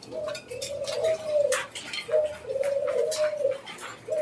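White ringneck doves coo nearby in a rhythmic series of soft, low rolling calls at a bird farm, with faint background chirps.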